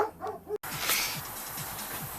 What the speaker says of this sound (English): I'll go see what they're barking at.